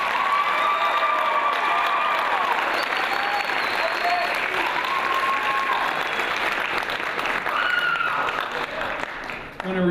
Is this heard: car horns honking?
no